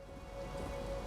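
Steady rain falls in the video game Elden Ring, a dense, even hiss of droplets with a faint tonal hum underneath, moderately quiet and continuous.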